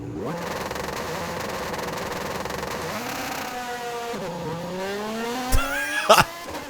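A Lamborghini engine in Forza Horizon 5 revs steadily on launch control, then surges and climbs through gears as it accelerates hard, with a brief squeal and thumps near the end.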